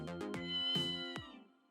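A cat in the video game Ghost Trick: Phantom Detective meows several times in quick succession, clear and close, a few short calls followed by one longer drawn-out meow.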